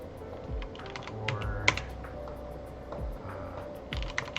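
A few sharp keystrokes on a computer keyboard, including a press of the left shift key, heard as isolated close clicks amid low room hum.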